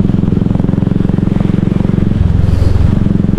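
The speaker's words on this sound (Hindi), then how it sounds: "काफ़ी अच्छा विंड ब्लास्ट है हाईवे पे आज, मतलब I can feel the wind going against me" Wind roars and buffets against a rider on a motorcycle cruising a highway on a winter morning in Rajasthan, a loud continuous blast with the engine's rapid throbbing pulse underneath, close and unbroken throughout.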